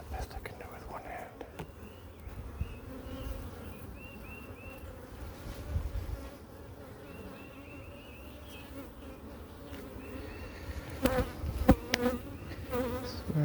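Honeybees buzz around an open beehive, a steady close hum with individual bees droning past, under quiet, whispery talk and occasional handling knocks.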